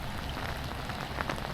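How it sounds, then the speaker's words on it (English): Heavy rain pours steadily at a dam, a dense hiss of drops hitting the surface close by, with no voices. "because it's raining so hard"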